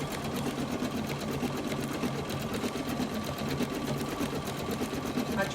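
A home sewing machine runs with its cover removed, stitching a monogram onto a towel: a steady, close, rapid mechanical chatter of needle strokes that continues without pause throughout.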